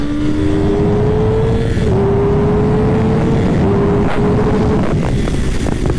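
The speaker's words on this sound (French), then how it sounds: "Là c'est une ZX10R qui vient de me passer" A Kawasaki ZX-10R motorcycle passes on a rain-soaked southern race circuit. Its steady, high engine whine rises slowly under a loud, continuous roar of wind and wet-track noise, heard close throughout.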